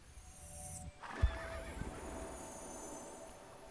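A horse whinnies loudly up close in the video game Star Stable Online, and a few hoof clops and a thud follow over a steady low ambient background.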